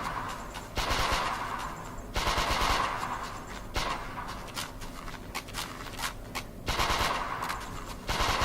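An enemy turret in a third-person shooter fires in rapid automatic bursts, loud and close, with short pauses between volleys and a steady crackling rattle of gunfire.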